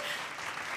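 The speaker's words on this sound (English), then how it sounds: "Bathe our champions in your applause." An audience bursts into dense, steady applause for champion couple Vitaly Alexeyev and Veronika Smirnova, a brief, loud wash of clapping filling the whole moment.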